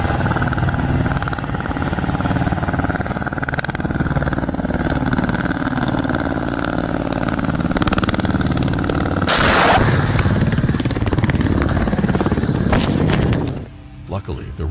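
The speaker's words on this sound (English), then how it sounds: "one of the helicopters mistakenly discharged its rockets near spectators during a low flyby" Russian military helicopters in a low flyby over spectators, a rotor drone under steady talk, then a sudden loud, harsh burst as rockets are fired before the noise drops away.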